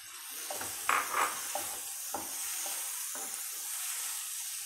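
Capsicum sizzles as it hits masala that has been fried in oil until the oil separates, with a few louder stirring scrapes early on and then a steady frying hiss.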